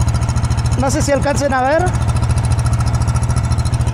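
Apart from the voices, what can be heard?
exhaust of a mini VW Beetle replica with a real gasoline engine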